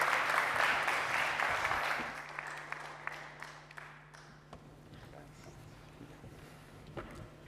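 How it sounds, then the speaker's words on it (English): A conference audience at DappCon24 claps for a panel; the applause is loud at first, fades away within about two seconds, and leaves a few scattered taps and knocks in a quiet room. "Can we have a round of applause, please?"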